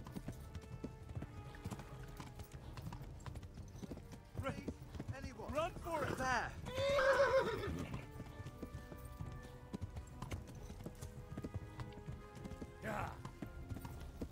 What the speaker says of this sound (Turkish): İki kere shift'e basıyorum, dört nalı koşuyoruz.